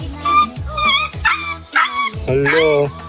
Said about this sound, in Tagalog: Ito yung masungit na aso niya.